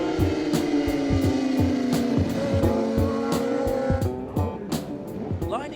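A field of racing motorcycles on a circuit heads out for a sighting lap, with loud, close engine roar and rising revs over repeated mechanical thumps, while a commentator talks over them.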